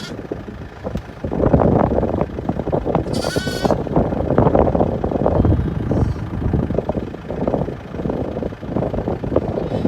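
Several feeding lambs bleat in overlapping calls close by, outdoors in a Scottish field at lambing time, with wind rumbling against the microphone throughout.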